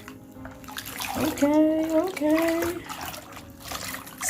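A hand sweeps through bath water topped with thick foam, sloshing and splashing in short bursts while a person speaks briefly over it.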